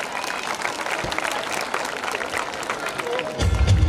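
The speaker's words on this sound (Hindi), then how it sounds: "एक बार जोरदार तालियां" Loud, dense applause from the audience at a school annual function, sustained steady clapping from a large crowd throughout, with a low thump near the end.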